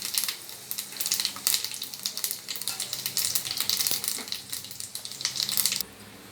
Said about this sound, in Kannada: ಅದು ಫ್ರೈ ಆಗ್ತಾಯಿದೆ.